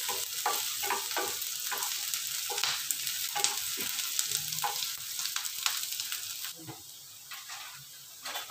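Garlic and onion stir-fried in a pan for an eggplant adobo, with a steady close sizzle and frying hiss broken by repeated spatula scrapes and stirring clatter, and no voices.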